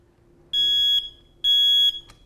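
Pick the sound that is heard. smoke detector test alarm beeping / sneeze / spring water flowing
smoke detector test alarm beeping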